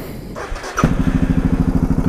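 Suzuki DR650 motorcycle engine starting after an oil change: a brief starter crank and thump, then the single-cylinder engine catches and settles into a loud, rhythmic, close-up idle.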